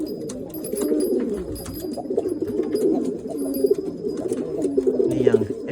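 Pigeons cooing close by in a loft on Lombok, soft throaty rolling coos repeating continuously with faint other bird sounds, no talk.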